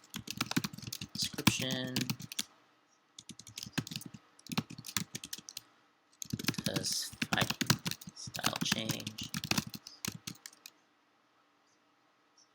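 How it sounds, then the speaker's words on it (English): Typing on a computer keyboard during a game development stream, rapid clicky keystrokes in several bursts separated by pauses, close and fairly quiet, with a voice speaking briefly over it. "Hopefully my typing's not too loud."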